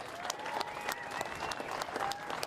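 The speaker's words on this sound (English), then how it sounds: "Give yourself a round of applause." Crowd applause at the Rip Curl Pro Bells Beach surf contest award ceremony, quiet and distant, a steady patter of claps over a few seconds.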